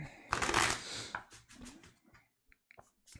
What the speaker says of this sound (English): One more shuffle with that.